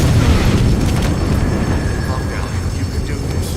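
A loud, dense explosion rumble in the video game Metal Gear Solid 5, with a heavy low roar that stays steady and fills the scene before slowly easing, no voices over it.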